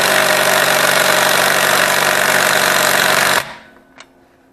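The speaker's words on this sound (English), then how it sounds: "Now let's see if our tool, our impact driver, can break this loose." Cordless impact driver straining against a wheel nut torqued to 40 foot-pounds on a car, a loud continuous buzzing hammer for about three and a half seconds that cuts off abruptly, then a brief faint click.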